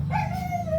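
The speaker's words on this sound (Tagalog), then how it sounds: "Yan yung aso natin na bagong kuha natin." A newly adopted dog gives a single thin, drawn-out whimper close by, a high plaintive whine held for under a second over a low steady hum.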